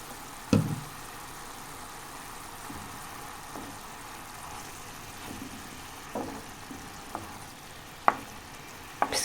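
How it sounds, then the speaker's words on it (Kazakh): Meat for homemade doner shawarma fries in a pan with salt and a splash of soy sauce, giving a faint, steady sizzle broken by occasional sharp pops and clicks, with no talking. "Піскенше жақсылап қуырып алатын боламыз."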